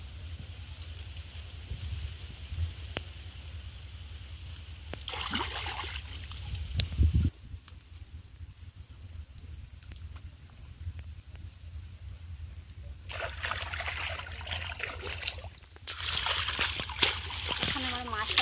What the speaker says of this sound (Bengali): পুকুরে পরিষ্কার করে ধুয়ে নিয়ে পরিষ্কার করে ধুয়ে নিচ্ছি